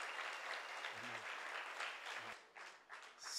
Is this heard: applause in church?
yes